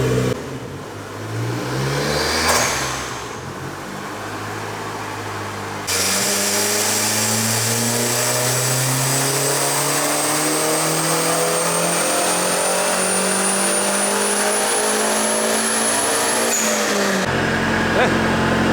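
A BMW E36 convertible with a turbocharged 1.8 M43 four-cylinder revs up on a dyno, its pitch climbing steadily in a long loud pull before cutting off, with people talking at the start.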